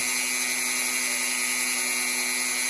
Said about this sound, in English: sometimes you get a little excess plastic. So we want to kind of shave that down